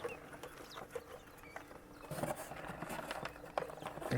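Newly hatched meat chicks, still damp from hatching, peep and cheep in short, scattered chirps at close range, with faint handling noises and rustling as they are moved into a warm brooder box.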